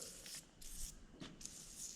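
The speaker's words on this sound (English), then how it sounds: "let's spray Panther piss on everything" Panther Piss penetrating oil sprayed onto parts of an antique Caterpillar RD4 transmission during a rebuild, several short, quiet hissing spray bursts in a steady rhythm.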